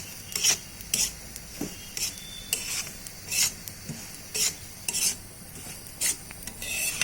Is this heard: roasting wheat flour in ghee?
yes